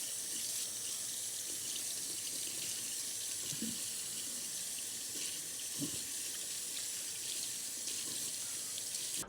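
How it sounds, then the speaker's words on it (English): Water streams and splashes onto a Redmi Note 15 Pro Plus phone, aimed at its USB-C port and speaker grille: a continuous faucet-like rush with a couple of brief heavier splashes, alone with no talk. "I'm gonna pour water directly into the USB-C port."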